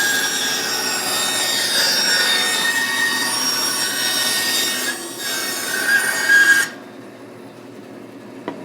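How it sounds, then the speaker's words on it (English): A woodworking bandsaw rips through a board with a loud steady rasping whine carrying a high tonal ring, dipping briefly, surging again, then the cut ends and only the machine's quieter running hum remains. "Cuts like a bandsaw."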